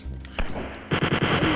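A newly picked-up gun in Wolfenstein 3D rattles off a quick burst of about six evenly spaced shots after a few brief thumps, loud and close.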